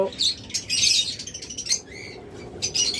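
Baby birds and lovebirds in cages call in quick bursts of high chirps and squawks, with a busy, overlapping chatter and a faint low background hum.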